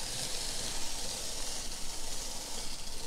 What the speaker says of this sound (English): you'll see it'll start to peel the apple. And at the same time, it slices and cores.